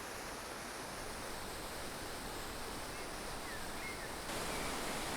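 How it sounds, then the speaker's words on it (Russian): Korbu waterfall on the Bolshaya Korbu river in Altai pours as a constant, faint, hissing wash of falling water, even and unbroken, with no voices. "Река Большая Корбу 5 раз срывается с кручи и летит с утесов"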